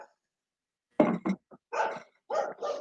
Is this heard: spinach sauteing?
no